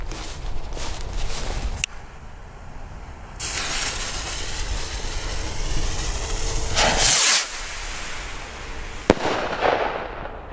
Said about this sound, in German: Kanonenschlag made in Germany.